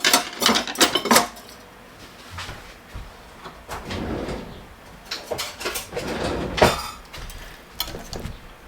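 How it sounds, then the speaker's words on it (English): A whisk clatters against a bowl of thick custard for a raspberry trifle, in uneven bursts of scraping and knocking with brief pauses between them, heard close. "Just going to whisk it up to sort of make it more cohesive."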